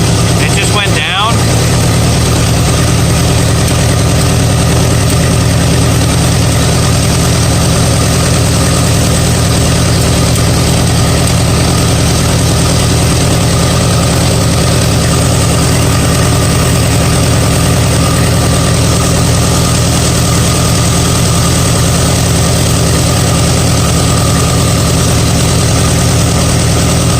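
An antique farm tractor's engine idles steadily after being rewired and started for the first time, a loud, constant low rumble that runs unbroken for the whole stretch.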